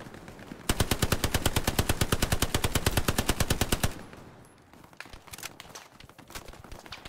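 Rapid automatic gunfire in the video game Hell Let Loose bursts loudly for about three seconds in a steady rattling rhythm, then fades into quieter scattered shots and background noise.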